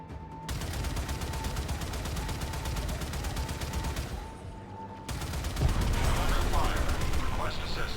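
Railjack gunner weapons in the video game Warframe fire as a fast, evenly spaced stream of shots that pauses briefly, then resumes even louder amid rumbling impacts and a steady tone.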